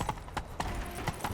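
Roach, Geralt's horse in The Witcher 3: Wild Hunt, gallops in a quick rhythmic clip-clop, about six distinct hoof strikes over a little more than a second, close and clear.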